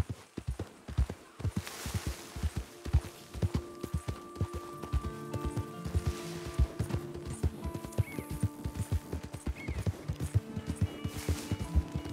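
Horse hooves in Red Dead Redemption 2 clop in a steady, fairly brisk rhythm, close and distinct, with a tonal musical score and occasional quiet voices in the background.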